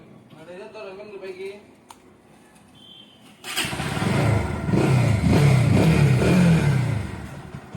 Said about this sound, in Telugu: ఇంకా సెల్ఫ్ మోటార్ ఎలాగ రన్ అవుతుంది ఏంటో చూద్దాం.